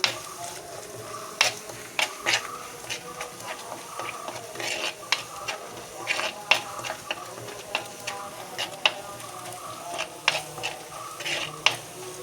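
Chilli, turmeric and fenugreek powders roasting in a pan, soft sizzling under repeated light scrapes and clinks of a spoon stirring against the metal, quiet and close.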